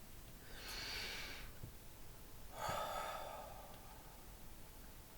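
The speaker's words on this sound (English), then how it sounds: "Another deep, deep breath, guys." Two slow, deep breaths are drawn during a guided tarot reading for Taurus, each a soft, close airy inhale and exhale over a quiet background, with no talking between them.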